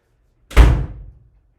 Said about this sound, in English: I'm gonna just go shut my door real fast.